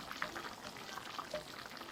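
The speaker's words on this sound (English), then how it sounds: "Meatballs are bubbling away. I'm just reducing the sauce down a little bit." Chicken meatballs simmer in a reducing sauce in a pan, giving a soft, steady bubbling and light sizzle with small popping blips throughout, close and fairly quiet, with no voices.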